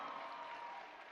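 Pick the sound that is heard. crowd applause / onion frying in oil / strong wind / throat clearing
crowd applause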